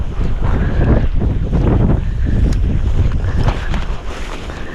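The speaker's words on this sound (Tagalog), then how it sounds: "mahangin na" Strong gusting wind buffets the microphone with loud, rumbling roars that rise and fall throughout, with no talking.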